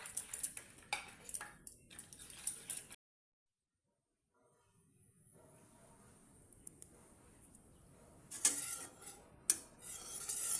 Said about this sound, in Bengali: 1 চামচ লবণ আর 1 চামচ হলদি গুঁড়া দিয়ে ভালো করে মিক্স করে নেব।